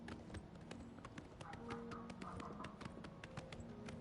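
Horse hooves clip-clopping in the video game Oblivion, a steady run of sharp hoof taps at close range, continuing throughout with a faint background hum.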